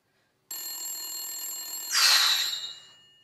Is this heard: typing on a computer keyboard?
no